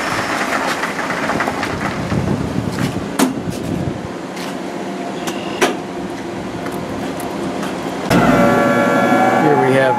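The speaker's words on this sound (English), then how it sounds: "We'll turn on the combustion blower from the burner." The combustion blower of a frac sand dryer's burner produces a loud, steady industrial roar with occasional knocks, and the sound swells into a stronger, fuller rush toward the end.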